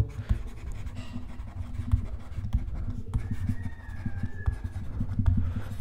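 Pen scratching across paper while a table is written out, a soft, continuous scribble with small irregular taps and strokes, close and quiet under a low background hum.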